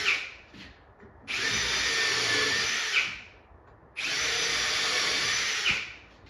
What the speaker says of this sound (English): Still got a couple more to drill.